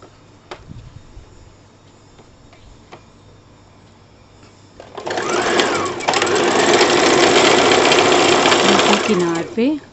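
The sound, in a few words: sewing machine stitching kurti back piece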